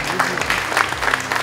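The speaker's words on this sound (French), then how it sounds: "Donc on peut vous applaudir." Audience applause at a crime-fiction festival event, a steady dense patter of many hands clapping throughout, fairly loud and close, with voices mixed in.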